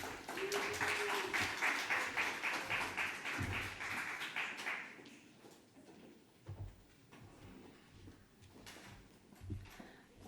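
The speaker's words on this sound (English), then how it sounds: "Big round of applause for Michelle." At a venture competition event, a room gives a short burst of applause that fades after about five seconds, followed by quiet room noise with scattered taps and thumps.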